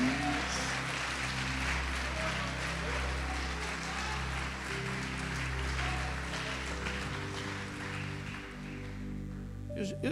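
A church congregation claps through a service, a sustained wash of applause mixed with steady held musical tones, moderately loud and continuous throughout.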